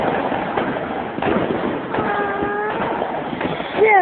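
Fireworks blow up on a pier, heard from a distance as a series of dull booms and rumbling thuds layered with crowd noise and some talking.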